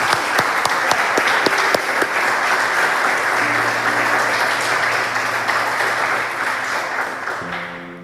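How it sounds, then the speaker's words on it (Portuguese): A church congregation applauds during a sermon, steady, full clapping filling the room for several seconds with a few sharper claps early on and a low sustained tone underneath, fading slightly at the end. "Aplauda o Senhor Jesus,"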